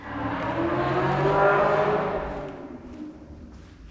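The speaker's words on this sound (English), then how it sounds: "If you guys heard that or not, but that was a car." A car drives past outside a garage, its engine note swelling to a peak and then fading away over a few seconds, with no one talking.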